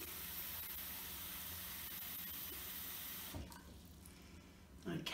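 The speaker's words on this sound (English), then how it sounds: "I'm going to fill it up with water" Tap water runs steadily into a container for a classroom capacity demonstration, a continuous broadband rush that stops after about three seconds, leaving quiet room tone and a small clatter at the end.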